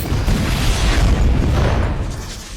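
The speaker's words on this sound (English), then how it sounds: "A storm of fireworks engulfs Victoria, ending her reign in a blaze of light." A sustained, loud, rumbling blast of explosions with heavy low booms and crackling hiss, continuous for a few seconds before tapering slightly.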